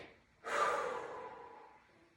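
A single audible inhale through the nose during a Pilates exercise, starting after a brief quiet and sustained as a breathy rush for well over a second before fading, close to the microphone.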